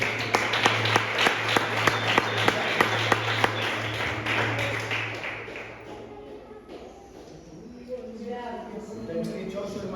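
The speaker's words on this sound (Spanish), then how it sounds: "¿Cuántos pueden dar un aplauso a Dios?" A church congregation applauds with sharp, rhythmic claps over a sustained low hum, then fades into speech and room noise.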